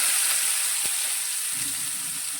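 Chopped onions added to hot oil with cumin and asafoetida give a steady close sizzle and hiss that runs throughout, with one brief stir or clatter near the start and a softer rumble toward the end.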